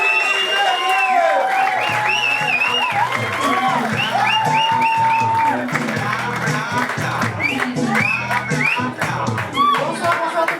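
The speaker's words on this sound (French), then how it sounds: "On l'applaudit. Émilie Bernier!" A comedy club audience applauds, cheers and whoops as comedian Émilie Bernier is introduced, a dense, loud crowd roar filling the whole stretch with shouting voices and a raised voice over the top.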